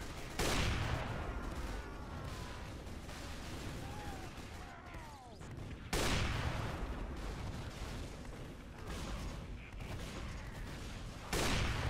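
Repeated bursts of gunfire and explosive blasts from a Team Fortress 2 Versus Saxton Hale match, with loud heavy volleys at the start, middle and end and busy battle noise in between.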